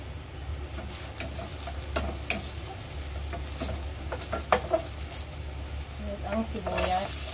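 Garlic sizzling in hot rice oil in a pan, with steady frying hiss and occasional stirring clinks over a low background hum; a few brief louder pops and scrapes.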